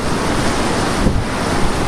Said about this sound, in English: Oh, look at those waves curling out there.